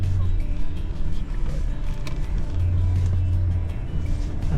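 A car drives along a sandy track near a beach in a national park on the Yorke Peninsula, its engine a steady close rumble with tyre and wind noise, and people talk briefly over it.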